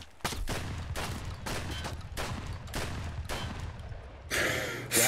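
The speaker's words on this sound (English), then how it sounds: "Who's shooting me?" Gunfire in Escape from Tarkov: a string of about six loud, evenly spaced shots close by, then a harsher blast near the end.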